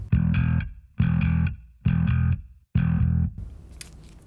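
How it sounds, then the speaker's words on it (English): Distorted bass guitar played fingerstyle through a Mesa 8x10 cabinet, four loud sustained notes with gritty upper overtones, each ringing out and stopping in a short gap before the next, with no talking. "you can hear more of that distortion in kind of the mid-range and the upper frequencies"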